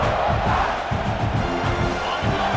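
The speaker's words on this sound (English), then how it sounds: "This crowd bringing the energy and noise early." Stadium crowd noise in the EA Sports College Football 26 video game during a South Carolina vs Auburn matchup, a loud sustained roar with a rhythmic pulsing chant underneath.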